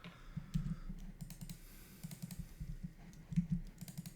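Quick bursts of typing on a computer keyboard, keys clicking unevenly in short runs with pauses, close and fairly quiet, no voices.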